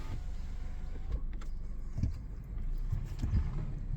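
Power windows on a 2022 Kia Seltos rolling down inside the car, a soft continuous motor hum under low road rumble, with faint knocks as the glass moves.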